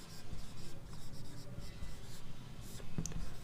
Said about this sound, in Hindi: ये लिख दिया मैंने